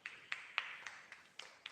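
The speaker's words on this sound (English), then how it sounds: "let's give a big round of applause to Haniel" A few scattered claps for a young student named Haniel at an online coding class, sparse sharp claps at irregular intervals, faint and thin.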